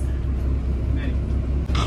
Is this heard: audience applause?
no